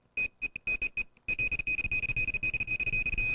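A string of short electronic beeps at a steady pitch from a DJ mixer fader being hit, first spaced out, then quickening into rapid repeated bleeps over clicking and thumping.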